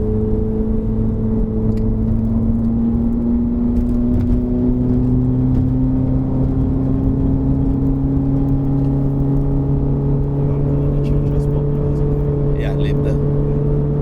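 Steady loud engine drone from a modified 2012 Honda CR-Z driving, with a low, rumbling exhaust tone holding throughout and faint voices underneath.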